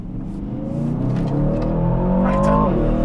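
An Aston Martin DBX 707 SUV accelerates in Sport Plus mode, its engine note climbing steadily in pitch and loudness from inside the cabin, a loud continuous roar with deep rumble beneath.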